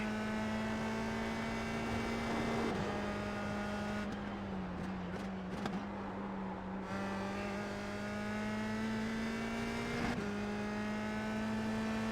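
A single-seater open-wheel race car engine in a racing simulator game, such as a USF 2000 or F3 car, drones at steady high revs under throttle, dipping briefly and then climbing again, with a constant buzzing tone and no talk.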